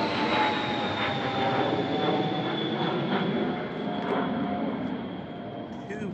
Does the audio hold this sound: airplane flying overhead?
yes